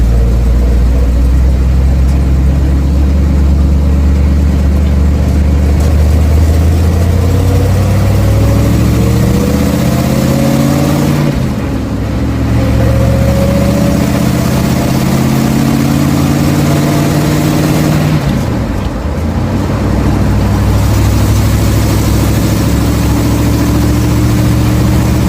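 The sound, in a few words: 1967 Chevelle transmission whine while driving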